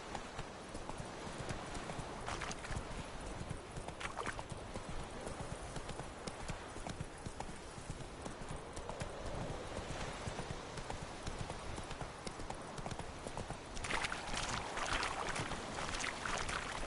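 Geralt's horse Roach gallops in The Witcher 3: Wild Hunt, with rapid rhythmic hoofbeats clip-clopping steadily throughout. The pace grows louder and busier near the end.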